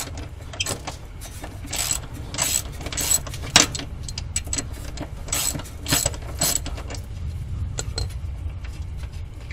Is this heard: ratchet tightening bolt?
yes